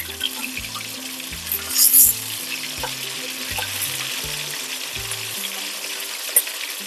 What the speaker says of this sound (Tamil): இப்போ ஒவ்வொரு பீஸை நான் ஆயில ட்ராப் பண்ண போறேன்.